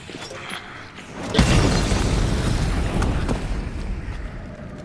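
A sudden heavy blast in the video game Hunt: Showdown at about a second and a half, followed by a sustained rumbling roar and crackling debris, loud and close, with no talking.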